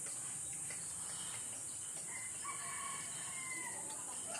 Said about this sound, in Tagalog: Yung maririnig mo yung mga kuliglig, tilaok ng manok